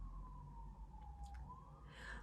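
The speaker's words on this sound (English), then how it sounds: "Hear the sirens." Far-off emergency siren wailing in a single slow rising and falling tone, faint beneath a steady low rumble of background noise, with no one speaking.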